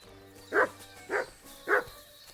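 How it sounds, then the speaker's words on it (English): Three evenly spaced dog barks in Kingdom Come Deliverance 2, each short and clear against a quiet game background with a low hum. "Why do you keep barking?"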